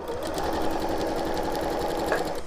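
A sewing machine stitching quilt pieces, its needle running in a fast, even, steady whir close by for the whole stretch.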